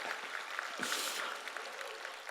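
A church congregation at a Sunday evening service gives a light round of applause, soft and somewhat distant, with a brief laugh or voice rising over it near the start.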